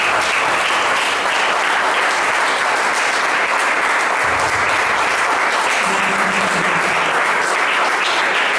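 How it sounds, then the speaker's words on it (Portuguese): A church congregation gives a sustained, dense round of applause after a pastor's sermon, loud and full throughout, with a low voice briefly audible beneath the clapping. "Dê uma salva de palmas."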